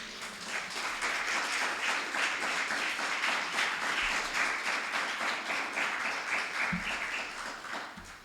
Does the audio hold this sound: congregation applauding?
yes